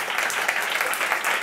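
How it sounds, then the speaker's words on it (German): Audience applause at a corporate inclusion dialogue event in Upper Austria, a dense, even wash of many hands clapping together, moderately loud and sustained throughout without talk. "Und ich darf Sie auch mit einem Applaus nach vorne bitten."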